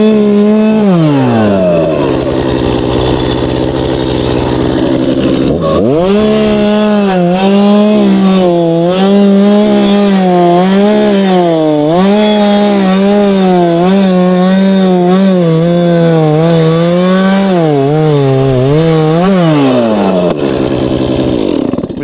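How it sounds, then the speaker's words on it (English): A chainsaw cutting logs during a logging job, its engine droning loud and close for over twenty seconds, rising and falling in pitch as it bogs into the wood and revs back up, with no voices. "I don't know if you could hear me with the chainsaw running."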